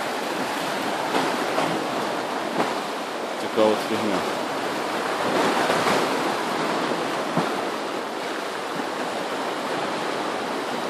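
Broad, steady wash of surf rolling and churning nearby, with a voice briefly speaking over the water noise.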